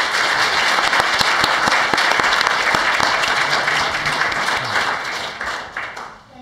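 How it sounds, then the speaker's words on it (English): An audience at a League of Women Voters candidate forum in Port Orchard gives a sustained round of applause, dense steady clapping that fills the room and tapers off toward the end. "Give them a round of applause."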